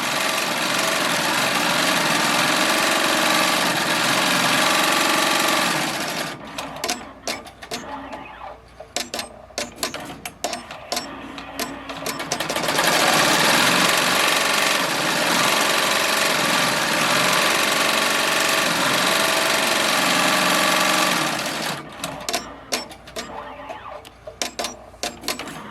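Bernina E16 Pro 16-needle embroidery machine running at full speed, a loud dense rapid mechanical chatter in long sustained stretches, broken by shorter stuttering pauses of clicks and thumps.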